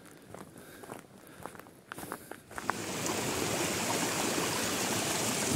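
A rushing forest stream near Walchensee in Bavaria, preceded by a few footsteps, then a steady loud broadband roar of flowing water close by with no talking.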